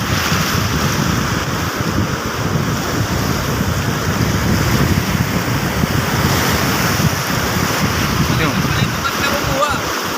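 A strong river current rushes in a loud, steady, broadband roar, with wind buffeting the microphone throughout.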